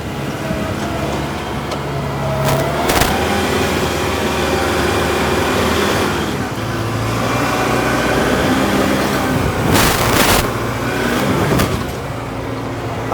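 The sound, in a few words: tractor driving with scrape blade lowered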